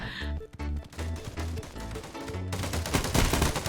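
Rapid bursts of gunfire from the mobile FPS game Fire Warrior II, loud and close, with a steady stream of repeated shots building into a denser volley near the end.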